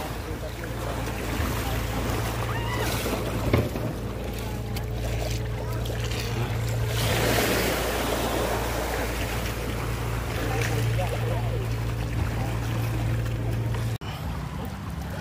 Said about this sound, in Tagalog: Yan, sasakay na po kami ng bangka.